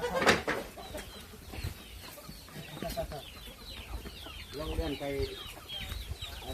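Fighting cocks cluck and call repeatedly while feeding on red meat, with overlapping bird calls close by, a brief burst of crowing-like noise, and someone talking intermittently over them.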